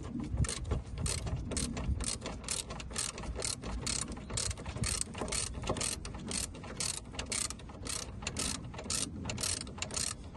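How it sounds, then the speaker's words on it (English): A hand ratchet clicks in fast, steady bursts while tightening the main strut bolt during a coil spring replacement on a Peugeot 207, the sharp metallic pawl ticks close and continuous with no talking. "before I do these two, I'm gonna secure the main bolt"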